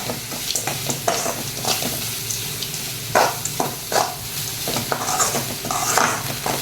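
Grated coconut sautés in a pan while a spoon stirs it, giving soft sizzling under repeated scraping and clinking strokes at an uneven rhythm, close and with no talk.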